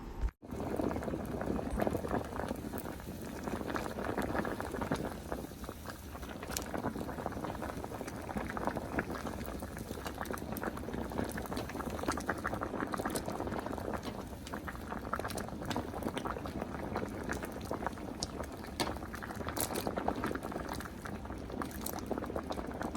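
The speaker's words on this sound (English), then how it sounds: "We're going to set them on the stove and let them boil on high until they're nice and tender" Potatoes boil in a pot of salted water on a stove turned to high, making a continuous, close bubbling and rolling churn that stays steady throughout.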